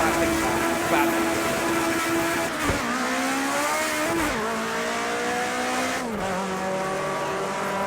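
A race car in a racing video game runs off the track into the gravel, its engine a steady close drone with harmonics that dip and climb again several times as it loses and regains speed.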